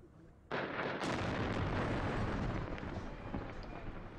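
After a moment of quiet, an explosive-laden vehicle blows up in Silopi with a sudden, powerful blast, followed by a long, heavy roar that slowly fades.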